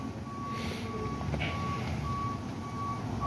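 A truck maneuvers at a Boston emergency scene on a very cold morning, its reversing alarm beeping in a steady repeating pattern over a constant low engine rumble, fairly close.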